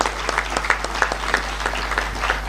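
Audience applause fills a parliament chamber during President Cyril Ramaphosa's keynote address at a 30th anniversary event, a steady wash of many hands clapping with rhythmic peaks, moderately loud and without voices.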